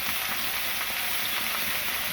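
Chilli, turmeric and salt in a hot frying pan, a steady hissing sizzle with faint soft stirring scrapes, close and continuous, no voices.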